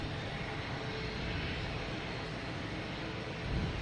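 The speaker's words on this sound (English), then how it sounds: "We have the Southwest landing first." A Southwest airliner lands at Boston Logan Airport as a steady, broad jet roar holds evenly at a moderate distance throughout, with no talking.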